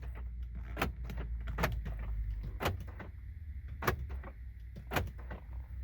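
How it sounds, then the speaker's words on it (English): Power door locks on a Lexus LS400 with 242,000 miles cycling repeatedly, a series of sharp mechanical clunks and thumps at irregular intervals over a low idle hum inside the car. "The door lock still works."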